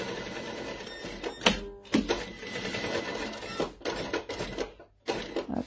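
A domestic sewing machine stitches a seam on a fabric pouch, a close rapid mechanical whirring that runs in bursts with brief stops and clicks as the fabric is turned, no talking.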